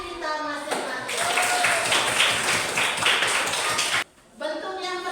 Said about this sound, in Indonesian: tepuk tangan untuk kelompok, tepuk tangan untuk diri kita masing-masing